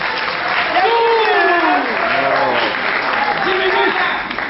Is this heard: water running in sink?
no